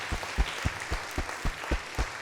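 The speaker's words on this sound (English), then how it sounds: "Let's give her another big round of applause." An audience at a talk claps in a rhythmic, fairly even pattern of distinct beats, moderately loud and continuous without talk over it.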